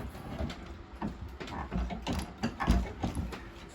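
Mechanical clunks and clicks from a Redding reloading press working a 45-70 black powder cartridge, irregular knocks and sliding metal sounds close by, with no voices.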